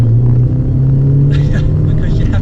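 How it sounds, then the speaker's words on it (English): An Alfa Romeo 916 GTV on a test drive, its engine a steady loud droning hum heard from inside the car, with faint road noise and a brief rise toward the end. "I'm actually going to just take you for a quick test drive."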